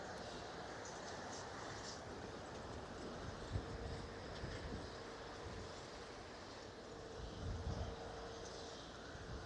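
A steady, heavy engine roar from a Boeing 787-8 Dreamliner landing at Ponta Delgada, São Miguel, Azores, heard from nearby, rumbling on with little change and occasional louder swells.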